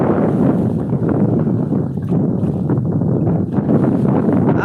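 Strong wind at sea roars continuously, buffeting the microphone with a heavy, rumbling, unbroken gust.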